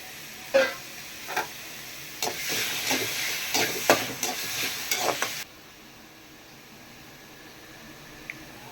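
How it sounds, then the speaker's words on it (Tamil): Boneless chicken for chicken kola is sautéed in a pan, with spatula scrapes and stirring over a soft sizzle for about five seconds before the sound drops to a quiet, steady hiss. "சிக்கன் கோலாக்கு போன்லெஸ் தான் போடணும். நல்லா வதக்கிக்கணும்."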